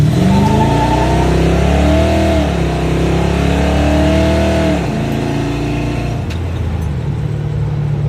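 A 1990 Ford Mustang LX with Holley EFI accelerating hard, loud and close: rising engine harmonics climb through the gears, then drop sharply at a shift near five seconds before the engine settles into steady cruising.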